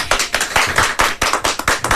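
Applause from a small group of people in a radio recording studio, with hand claps crowding into a steady patter close to the microphone and no voices over it.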